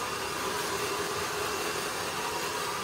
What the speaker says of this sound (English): utilizing the heat of the blow dryer with that nozzle to really press this hair.